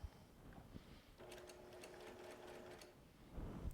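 A domestic sewing machine stitching down a quilt panel runs in a steady, even whir for about two seconds, close and quiet, with faint handling noise before and after and no talking.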